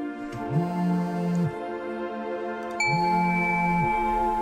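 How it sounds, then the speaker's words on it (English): Wind chimes in the game Hindsight ring as clear, sustained metallic tones over a soft musical bed, with two gentle sliding swells and a bright ping partway through. "There's wind chimes over here."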